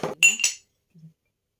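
Glassware from a dowry shopping haul, drinking glasses and a pitcher, clinks sharply two or three times up close, followed by a faint soft knock and then silence.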